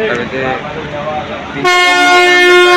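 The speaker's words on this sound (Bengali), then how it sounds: "ট্রেন বিফোর টাইমে এসেছে" The Darjeeling Mail at Malda Town station blasts a loud, sustained horn close by. It cuts in after a stretch of station rumble and talk, then holds steady to the end.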